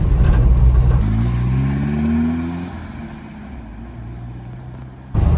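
A Ford Escort van's 1100cc petrol engine drones steadily while driving, its pitch rising through the gears, loud and close with no talking.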